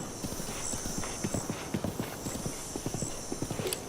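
Horse hooves clip-clop at a brisk, steady trot in Breath of the Wild, a dense run of soft thuds over a constant hiss of outdoor ambience, with no talking.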